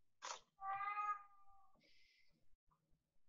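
A cat meows indoors, giving a short sharp cry followed by a longer, drawn-out tonal meow, then a fainter brief squeak; close and clear with quiet gaps between calls.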